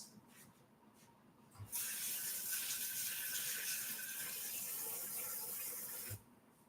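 Produce is washed under a running kitchen tap, a steady gush of water that starts abruptly, flows for about four seconds and stops, fairly quiet with no talk.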